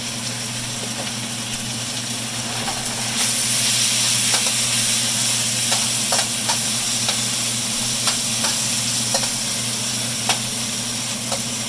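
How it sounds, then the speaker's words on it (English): Rice frying in oil in a pan on the stove, with a steady sizzle under a low hum and scattered scrapes and clicks as it is stirred constantly; the sizzle grows louder partway through. "We're going to be stirring constantly to make sure that the rice is thoroughly cooked"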